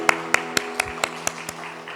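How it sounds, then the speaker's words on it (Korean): Crisp, evenly paced claps ring out in a church service, about four per second, sharp and close over a quiet hum. "큰 박수로 축하해 주시기를 바랍니다."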